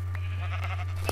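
Sheep bleating in the Minecraft video game, a single short game-sound bleat close up over a steady low electrical hum, with no talk.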